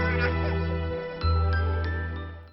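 A mobile phone rings with a bright, tinkling electronic jingle that plays loud and close for a couple of seconds, with no talk over it.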